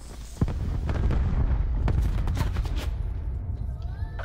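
Covering gunfire in Black Ops 4 Blackout: a sudden loud shot opens rapid, dense bursts of automatic fire, close and continuous, tailing off into softer pops near the end.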